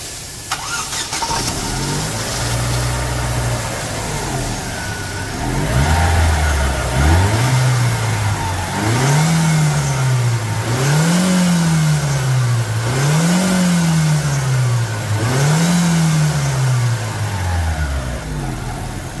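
A small 1.0-litre Flex Power car engine starts, then revs up and down in five or six rising and falling surges over a steady idle, loud and close.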